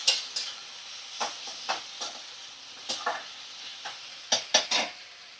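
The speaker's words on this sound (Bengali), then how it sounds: "ফ্লেমটা একটু লো ফ্লেমে করে ভালো করে মশলা কষিয়ে নেব" Cumin paste and spices frying on a low flame, a soft steady sizzle broken by repeated scraping stirs of a spoon against the pan, several clustered near the end, with no voices.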